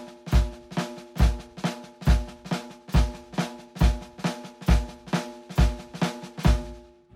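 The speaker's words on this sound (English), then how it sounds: "play all flams on the beat with quarter notes in the bass drum and the hi-hat" A drum kit plays flams on every beat over steady quarter-note bass drum and hi-hat, giving a loud, evenly spaced, punchy groove with a tonal ring behind it. No talking.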